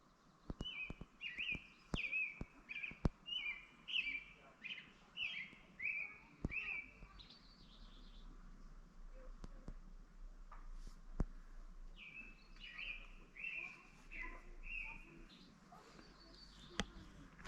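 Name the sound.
birds singing outdoors in South Dakota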